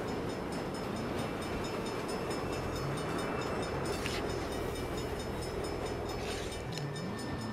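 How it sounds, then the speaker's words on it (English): Train rumbling past at close range in the Saints Row video game, a dense continuous roar with clattering wheels and faint tonal squeals, steady and loud throughout with no talk. "Bad time for a train."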